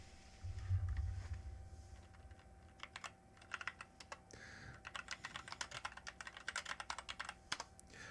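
Rapid computer keyboard typing during an online typing test, a steady stream of close, crisp key clicks in uneven bursts after a brief low thump at the start.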